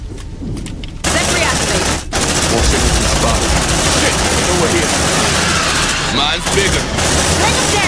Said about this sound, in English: Deploying sentry gun.